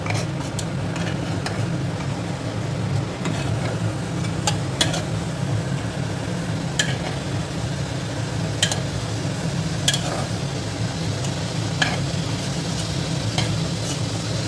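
Prawns fry in hot oil for a prawn makhani biryani, a steady low sizzle broken by sharp scrapes and clicks of stirring throughout, close and continuous with no voices.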